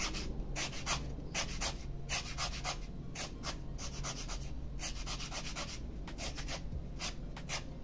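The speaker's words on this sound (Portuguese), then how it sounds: "O esfuminho tá sujo, tá vendo? Eu vou limpar ele na lixa." A paper blending stump is rubbed back and forth on sandpaper to clean it, giving steady, close, rhythmic scratchy strokes that repeat for several seconds with no talking.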